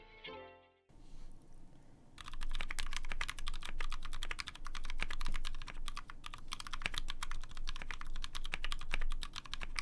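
Rapid, steady typing on a mechanical keyboard fitted with lubed Gateron cream switches, a dense stream of close, crisp keystrokes after a brief lead-in, with no voices.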